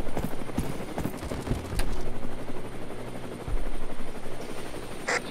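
A helicopter in the video game War Dust thuds with rapid rotor chopping, loud and close amid scattered gunfire and impacts.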